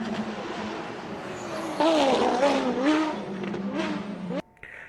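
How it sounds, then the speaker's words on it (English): Race cars circle a track and brake hard, engines droning then dropping and swooping in pitch through several decelerations over a few seconds, fairly loud, before cutting off abruptly near the end. "Now, these race cars have been braking a lot."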